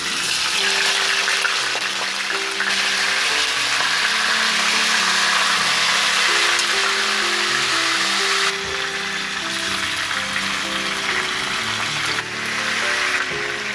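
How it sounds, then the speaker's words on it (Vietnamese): A fish head sizzles in hot oil in a frying pan, a loud, continuous crackling hiss with a faint low hum beneath it and no talk. "Đây là cái đầu cá mình sẽ bỏ vào mình chiên nha các bạn."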